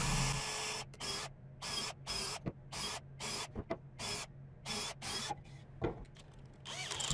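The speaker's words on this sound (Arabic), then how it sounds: "نخرم للمسامير" A power drill whines in repeated short bursts, about ten pulses with quiet gaps and small knocks between, as screw holes are drilled in wood for a small homemade router table; it sounds close but fairly soft.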